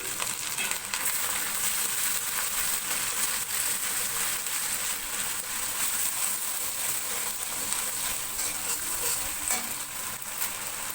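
Garlic dropped into hot oil in a pan while making butter chicken: a dense, even sizzle and crackle that holds steady and loud throughout, with faint stirring scrapes underneath.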